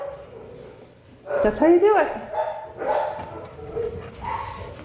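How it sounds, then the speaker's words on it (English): Dogs bark and whine at someone outside, repeated yelping barks close by, mixed with a person talking over them. "So the dogs are going to bark until they figure out what's going on outside."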